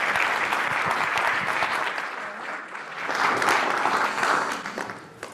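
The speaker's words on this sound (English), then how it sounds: "can we have another round of applause for everybody who gave talks today?" A crowd at a medical care symposium gives a round of applause for the speakers, a full, continuous roar of many hands clapping that swells briefly in the middle and carries on throughout.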